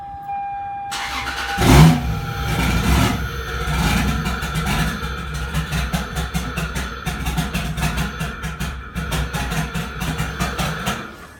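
Turbocharged car engine on its first start-up: a starter crank followed by the engine catching and rumbling, then repeated revs rising and falling in a rough, loud idle, close by with no talk.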